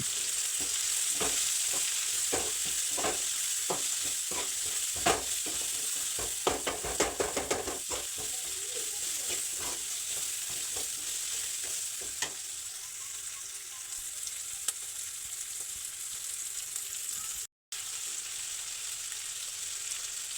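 Chopped tomatoes with salt and turmeric fry in a pan, giving a constant soft sizzle with a run of scraping stirs in the first half, then steady quiet frying alone.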